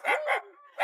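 A dog barks three times in under a second, two quick close barks, then a short whine-like gap and a third bark, loud and near.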